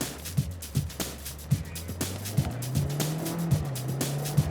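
Vauxhall Astra pursued by police, its engine droning steadily with a low hum that rises in pitch, with regular thumps and tyre noise as it drives past amid other traffic.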